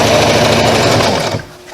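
A sewing machine runs fast on a basting stitch, sewing elastic into a pair of jeans: a loud, dense, rapid stitching whir close to the microphone that runs for over a second, then stops abruptly.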